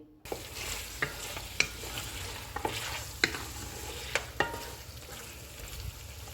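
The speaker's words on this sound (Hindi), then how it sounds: "अब हम चूल्हे को मीडियम कर देते हैं और इसे 2 से 3 मिनट तक भूनेंगे।" Yogurt mixture for degi beef pulao sizzling in a pot over medium heat, a steady low fry broken by repeated sharp clinks and scrapes of a spoon stirring, close and alone.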